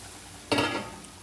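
Green chillies hit a hot iron griddle with one sudden sizzling burst that quickly settles into a softer crackle, close and alone with no talking.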